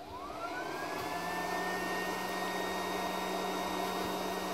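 A mini induction heater from AliExpress heats nuts with a steady electrical whine whose pitch rises and then holds, alongside a constant low hum, loud and continuous with no talking.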